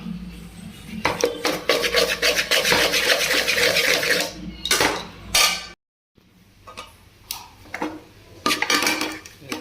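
A utensil scrapes and clatters against a pan as boiled egg noodles are tossed and mixed, loud bursts of metallic rubbing and knocks that stop briefly and then resume in shorter strokes.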